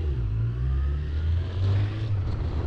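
A motorcycle rumbles along a road near a closed beach area, its low engine drone steady and fairly close with a slight swell in the middle, no talk.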